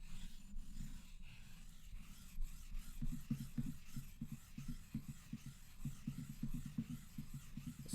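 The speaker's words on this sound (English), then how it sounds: "This is a dia sharp extra coarse DMT dia sharp extra coarse stone, and I'm just going to work it over the surface" DMT Dia-Sharp extra coarse diamond plate rubbed back and forth over a whetstone to flatten it, a soft gritty scraping in repeated strokes, close and quiet, with no talking.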